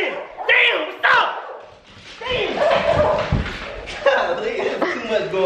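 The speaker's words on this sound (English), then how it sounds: "There's too many dogs in there." Several dogs bark, yip and whimper close by in a backyard, overlapping with people talking and laughing.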